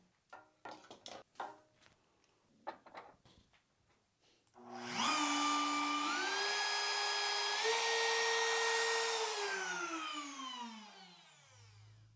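A shop vacuum switches on and runs with a steady, loud whine after a stretch of clicking and handling noises, then begins winding down near the end; it serves as chip collection for a router trimmer.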